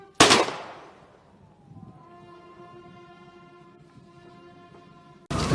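Rifle salvo fired in honour at the state funeral of a former vice president: one loud, sharp volley that rings out and decays, a sustained tonal ringing in between, then a second abrupt volley.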